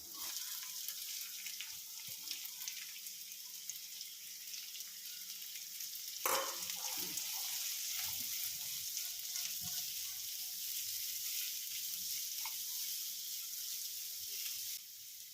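Chopped onion, garlic and green chili fry in hot oil with a steady close sizzle and hiss. A louder crackle comes midway, likely as more ingredients go in, then the frying continues evenly.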